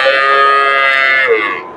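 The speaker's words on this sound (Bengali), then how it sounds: "এই যে ক্রস বিডের ষাঁড় বাচ্চা" A crossbreed bull calf at the Dhaper Haat cattle market in Bogura gives one long, loud, close moo that ends in a falling tail.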